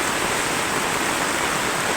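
Floodwater rushing steadily during Typhoon Karina, a dense continuous broadband roar of flowing water, close and loud with no speech.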